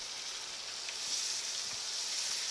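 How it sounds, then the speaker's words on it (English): Steak searing with butter in a Lodge cast iron pan gives a steady, close hiss of sizzling fat that swells slightly halfway through, with faint stirring clicks and no voices. "I want to get these things cooked up on the edges. Really get those sides seared."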